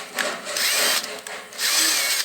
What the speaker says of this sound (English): I'll drill, keep drilling up close to size